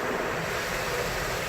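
Spot-free rinse water spraying gently over a car in a touch-free laser car wash in America, a continuous soft hiss of falling water like light rain, steady and close.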